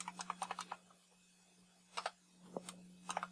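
Someone types on a computer keyboard to log in to an Ubuntu Server 22.04 machine. Soft, close keystrokes come in short clusters with quiet gaps over a faint steady hum.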